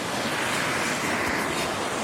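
The main waterfall at Ashgill Force roars as a dense, steady broadband rush of falling water, continuous and loud throughout with no voices.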